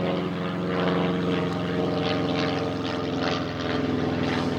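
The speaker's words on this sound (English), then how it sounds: "more jet noise, albeit private planes on the whole now." A private propeller plane passes overhead above open countryside, its steady engine drone loud and continuous throughout with no voices.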